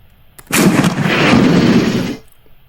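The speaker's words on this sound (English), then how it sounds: "let's use the ready rack. And fire the target." A tank's main gun fires at a target in the video game Armoured Commander II, a single loud, booming shot that roars briefly and then cuts off, with no talking.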